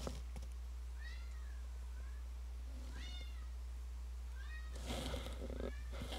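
A cat meows in the video game Persona 4 Arena Ultimax, three or four clear rising-falling meows spaced a couple of seconds apart over a steady low hum, followed by a brief louder burst of noise.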